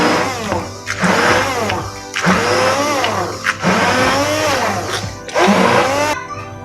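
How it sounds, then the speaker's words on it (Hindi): A hand blender grinds spinach in loud whirring bursts, the motor pitch rising and falling in several pulses with brief dips between, no talk over it. "इसको मैं हैंड ब्लेंडर से ना कर लूँगी"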